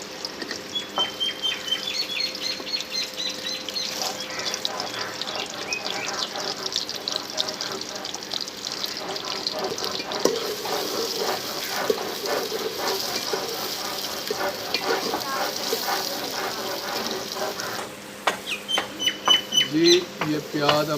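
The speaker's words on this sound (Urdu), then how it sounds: "یہ پیاز ہمارے فرائی ہو رہے ہیں" Chopped onions sizzling in hot ghee in a village-style pan for baingan bharta, a steady crackling hiss that runs throughout with a person talking over it.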